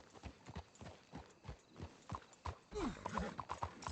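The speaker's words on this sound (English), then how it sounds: "Let's hitch the horses up ahead." Horse hooves clip-clop steadily at a walking pace on the ground in the video game Red Dead Redemption 2, close and fairly quiet, with a horse snorting or whinnying briefly near the end.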